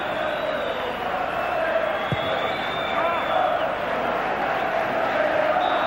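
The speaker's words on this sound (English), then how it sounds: "Great applause for the Liverpool team." Football stadium crowd at Anfield applauding the Liverpool team at half-time in a 1991-92 UEFA Cup match against Auxerre, a broad, steady roar of clapping and cheering throughout, with a commentator's voice carrying over it.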